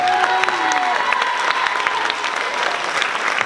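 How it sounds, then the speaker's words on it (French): An audience at a church choir cantata performance applauds the choir conductor, a dense, steady wash of many hands clapping throughout, with faint tonal sounds drifting underneath. "Voilà, on l'applaudit encore une fois."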